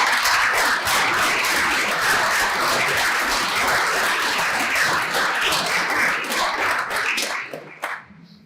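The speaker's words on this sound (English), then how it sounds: "So please give him a big applause." A big round of applause from a conference audience welcoming a speaker on deep learning in sports analytics; loud, dense clapping that holds steady, then thins and stops abruptly with a few last claps.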